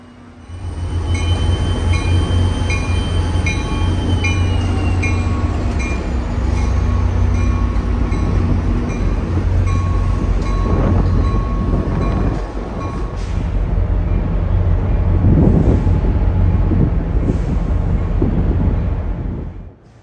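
New Jersey Transit locomotive train at Hoboken station, a loud steady rumble of passing rail cars with wheel squeal, clattering joints and a rising hiss near the end, heard alone.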